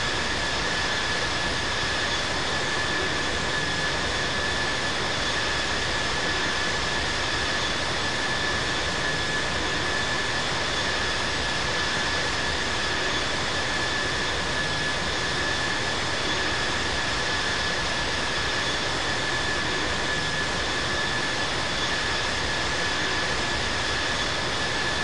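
A Delta A321-200 taxis to runway 27 left at Atlanta in the Infinite Flight simulator, its jet engines holding a steady, unbroken whine and rushing hum for the whole stretch.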